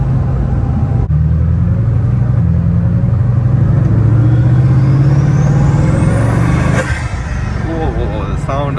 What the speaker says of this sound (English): Whoa, the sound of the turbos.